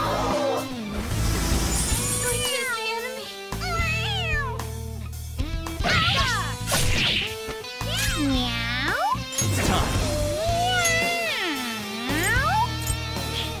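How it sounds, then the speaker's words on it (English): A cat in the video game Persona 5 lets out repeated drawn-out meows and caterwauls over game music and effects, with sliding, wavering cries spread through the stretch and bursts of game noise between them. "Like, it just meowed."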